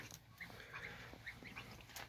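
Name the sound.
geese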